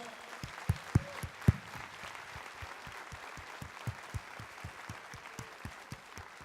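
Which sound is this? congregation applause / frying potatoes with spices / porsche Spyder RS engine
congregation applause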